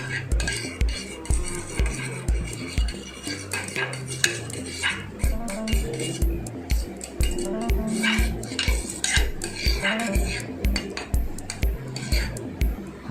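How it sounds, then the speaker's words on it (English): Eggs and milk being whisked in a ceramic bowl, a utensil clinking and scraping against the sides in a quick, steady rhythm that runs continuously, close and fairly loud. "you have to mix all the ingredients in a ceramic bowl which is microwave friendly"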